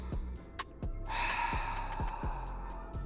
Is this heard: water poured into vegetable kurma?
no